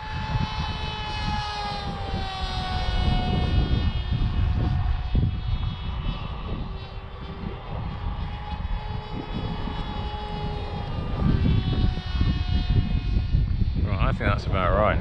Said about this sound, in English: It sort of makes a ripping noise as it's flying along.